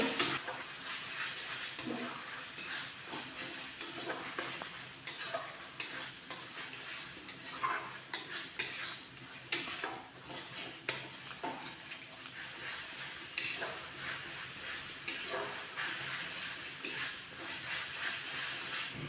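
A spoon stirs and scrapes chili sauce and tomato sauce into flour in a bowl or pan, producing faint, irregular clinks and soft scraping strokes over a light background hiss, with no talk.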